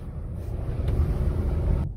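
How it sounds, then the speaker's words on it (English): A 2020 Kia Sorento SUV on the move produces a low, steady road rumble and cabin drone, close and moderately loud, with no talking. "Yeah, so 2020 Kia Sorento, SUV luxury."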